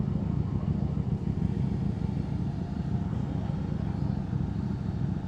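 A steady motorcycle exhaust rumble at night, dense and continuous with little change in pitch, fairly loud throughout.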